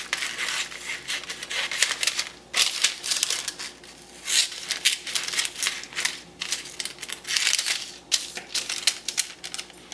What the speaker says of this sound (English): we're going to take scissors and we're going to cut on those lines